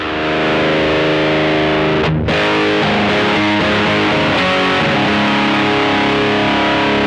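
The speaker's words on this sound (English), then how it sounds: "What a great high gain pedal." Electric guitar through a Mosky Brown Distortion high-gain pedal, thick saturated Marshall-style chords ringing loud and continuous with a brief cut partway through.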